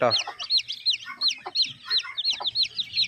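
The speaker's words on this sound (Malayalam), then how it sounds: "എട്ട് പീസ് നാടൻ കോഴി കുട്ടികൾ" A group of eight two-day-old native chicken chicks cheep continuously, with rapid, bright, overlapping high peeps close by and a faint low hum beneath.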